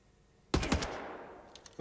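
Enemy gunfire in the shooter game Wolfenstein: The New Order: a couple of loud, sharp shots in quick succession ring out with a reverberant tail, followed by another burst right at the end.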